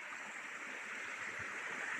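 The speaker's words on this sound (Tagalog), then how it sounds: "Mini waterfalls!" Mini waterfalls in a Hong Kong mountain stream make a steady, close rushing and splashing of water that carries on without a break, with no voices.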